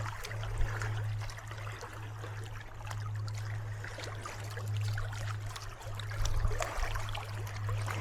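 Stream water flows steadily at a campsite in a constant close-up rush and trickle, with a low steady hum running underneath and no talking.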